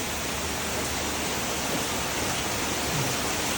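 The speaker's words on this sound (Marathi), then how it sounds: "पाऊस कमी झाला आता." Steady rain falls outdoors while rainwater is collected for tea, a dense, even hiss that stays loud and unbroken throughout.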